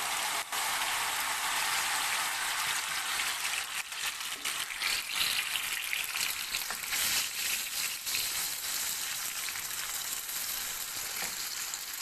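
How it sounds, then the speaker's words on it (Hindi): Spice paste fries in hot oil in a pan, a loud, steady close-up sizzle and crackle that continues throughout, with occasional stirring scrapes and no talking. "अब हम ये अपना पेस्ट इसमें शामिल करेंगे और इसे अच्छे से पका लेंगे।"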